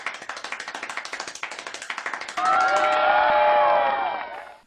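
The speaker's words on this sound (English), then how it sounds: "Damn, that was some fast ass clapping right there, Hamish." Fast, evenly spaced clapping in a steady rapid rhythm, followed by a swell of crowd cheering and shouting that fades out.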